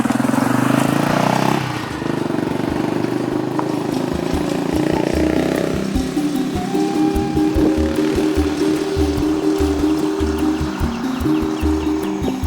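A motorcycle riding through Uganda drones loudly and steadily close by, with its engine note shifting as it changes speed, plus wind noise and irregular thumps from the road.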